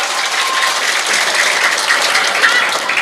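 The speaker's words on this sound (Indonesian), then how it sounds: "tepuk tangan untuk regu B" Applause for team B from a crowd of women at an Idul Adha 2025 gathering in Curahkalong, a steady dense clapping that stays loud and even for the full three seconds.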